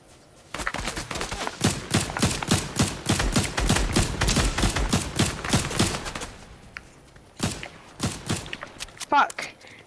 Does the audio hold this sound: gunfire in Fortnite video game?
yes